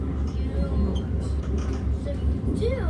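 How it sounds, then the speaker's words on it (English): A Caltrain commuter train pulling out of 22nd Street Station in San Francisco rumbles steadily along the rails with low mechanical drone and clanking, while faint voices murmur inside the car. "Here we are pulling out of 22nd Street Station here in San Francisco"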